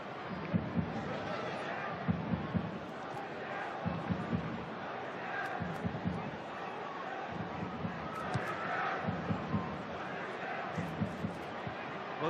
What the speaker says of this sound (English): the crowd hasn't fallen totally silent. There is still a bit of a rumble around the Adelaide Oval